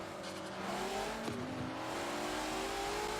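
Race cars in Forza Motorsport 7, including a Falcon Tire S15, rev and accelerate together off the start line. Several engines rise in pitch and overlap in a loud, steady roar throughout.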